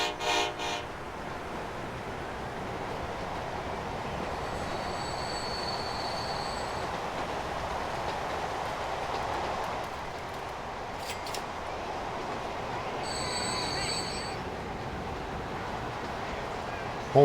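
A train in the game Transport Fever rolls past with a steady hiss of wheels on rail and faint squealing, a constant moderate rumble with brief higher squeaks.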